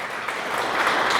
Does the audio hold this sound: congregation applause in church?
yes